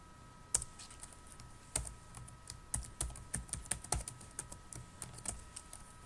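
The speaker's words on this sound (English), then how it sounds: "Let's type the password." Password being typed on a computer keyboard at a CentOS 7 terminal, a run of irregular key clicks, close and fairly quiet, with a few sharper strikes and no talking.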